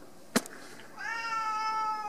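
A house cat lets out a single drawn-out meow, close and fairly clear, preceded by a brief sharp knock or thump in an otherwise quiet room.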